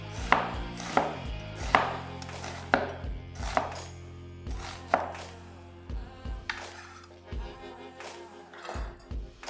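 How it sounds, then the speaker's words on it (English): A knife slices a medium onion on a cutting board, giving a steady series of crisp, close chopping taps with short pauses between strokes. "Slice up a medium onion"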